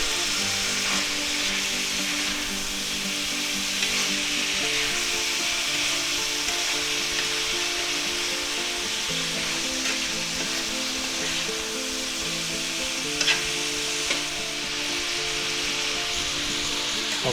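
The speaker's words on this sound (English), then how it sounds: "a little bit of pepper, a little bit of garlic, a little bit of onion powder, and we're going to stir that in" Ground beef and vegetables seasoned with salt, pepper, garlic and onion powder sizzle steadily in a pan for a stir fry, a loud continuous frying hiss with soft scraping stirs, no voices.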